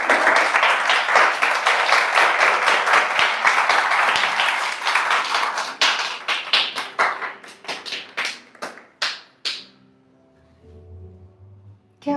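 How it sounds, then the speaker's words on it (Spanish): A church congregation applauds together, dense clapping that thins into a few scattered, slowing claps before fading into quiet. "Denle un aplauso al Señor por eso."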